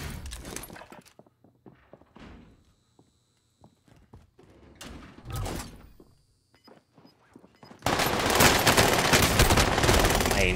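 Submachine gun fire from a PPSh in an online shooter match, bursts of rapid shots near and far with thuds and clatter, then a loud dense burst of close automatic fire dominating the final seconds.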